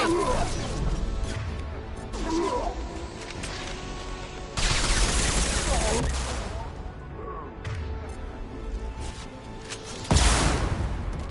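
Mass Effect 2 combat gunfire with heavy crashing shots and impacts, loud and sustained, with bursts at intervals and voices talking over the action.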